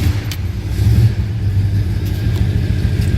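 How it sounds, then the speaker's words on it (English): A 1957 Ford Fairlane Ranch Wagon with a 4-speed idling close by, a steady low rumbling exhaust with a slight swell in the first second, loud and alone. "I'm going to go ahead and fire this up so you can hear it run."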